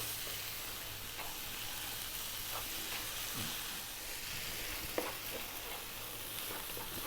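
Yellow moong dal frying in a pan on high heat, a constant bright sizzle with scattered scraping strokes of a spoon stirring it, steady and close with no voices.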